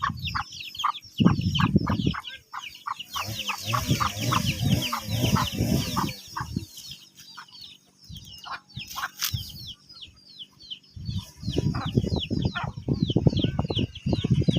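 Fighting chickens on a farm cluck and chatter close by, a steady flock of short calls with brief pauses and a few louder bursts.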